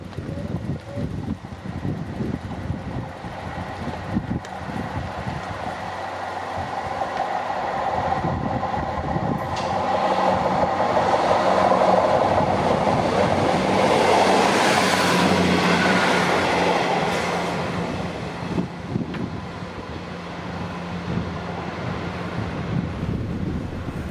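A train rumbles past on a viaduct at Corby Gates in torrential rain, rising from a distant clatter to a loud rushing peak midway before fading again, with wind buffeting throughout.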